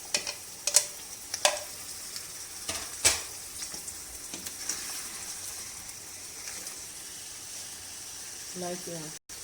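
Chicken sizzles in hot oil with ginger and garlic, a soft, constant crackle punctuated by sharp clinks of a utensil against the pan.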